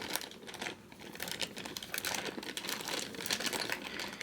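A plastic bag of dominoes crinkles and rustles continuously up close, with busy crackling handling sounds and no talking.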